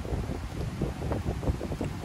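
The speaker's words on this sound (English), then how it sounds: "Oh, there's the wind." Storm wind rushes and buffets steadily close to the microphone at a camp, with low rumbling gusts throughout and no talk.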